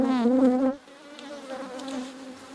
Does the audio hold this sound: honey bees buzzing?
yes